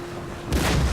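After a brief quiet hum, a single heavy ship's cannon booms suddenly in Total War, a broad rumbling blast.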